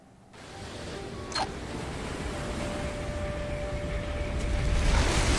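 A boat on ocean waves in The Golden Compass video game, with a steady wash of surf and wind that grows slightly louder, plus a faint tonal hum.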